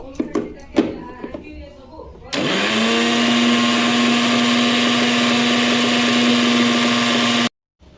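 Powdered neem leaves whirring in a kitchen mixer grinder for a homemade hair mask, a loud steady motor whine running several seconds before cutting off abruptly, preceded by brief clatter and a voice.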